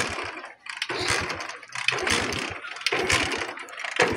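A motorcycle that has broken down is kicked over repeatedly but won't catch, giving about four short bursts of sputtering mechanical noise separated by brief pauses, close and fairly loud.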